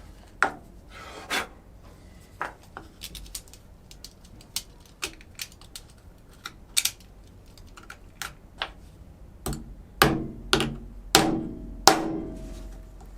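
Wooden toilet-paper roll holder parts worked with a chisel, giving a run of sharp scraping taps and short cuts that grow louder and more forceful toward the end, with no talk over them.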